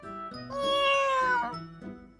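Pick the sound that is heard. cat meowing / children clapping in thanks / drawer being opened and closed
cat meowing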